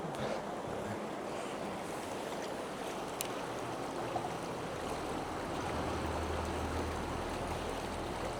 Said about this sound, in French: Ils sont jolis ces petits ruisseaux là